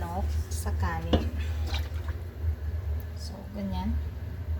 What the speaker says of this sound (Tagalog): ibubuhos na natin yung tubig ng pinaglutuan natin ng manok sa kanin